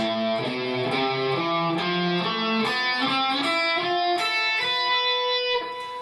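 Distorted electric guitar plays a fast run of single notes climbing steadily through the Hirajoshi scale, two notes per string, each note picked cleanly with an exotic, Japanese-sounding tone.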